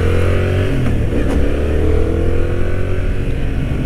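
A Yamaha MT-07 motorcycle engine growls loudly and close, its pitch rising and falling as it revs, continuous with no talking.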